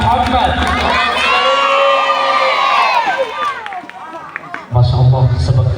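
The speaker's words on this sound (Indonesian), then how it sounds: "Pada tepuk tangannya untuk Al-Abidin" Crowd noise and cheering fill the hall for Darul Abidin foundation members at a Maulid Nabi celebration, loud and continuous with shouting voices, then a burst of clapping swells near the end.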